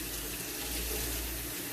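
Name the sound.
water running from a faucet while rinsing guinea pigs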